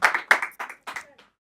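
A few scattered hand claps from a small audience at an Indonesian talk show, about five short bursts over a second and a half, close and fairly loud, with a trace of voice mixed in.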